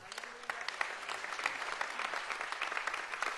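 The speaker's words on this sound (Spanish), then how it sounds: "Un aplauso al Señor." A church congregation breaks into sustained, lively applause, many hands clapping together at moderate loudness in a reverberant hall.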